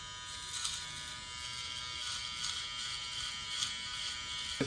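Electric balding shaver buzzing steadily up close during a self-cut high taper, a constant high-pitched motor whine with slight surges as it moves.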